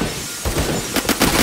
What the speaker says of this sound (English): I like smashing windows!